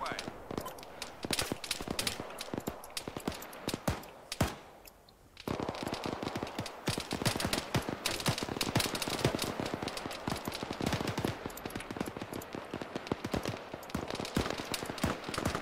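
Machine gun fire in an Arma 3 military exercise, a dense stream of rapid shots that keeps going almost nonstop, with one short pause, while a voice talks over the battle noise.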